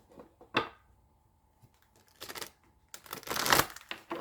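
Tarot cards shuffled by hand in short, crisp riffling bursts separated by quiet gaps, with a longer, denser flurry near the end; close and moderately loud, with no talking.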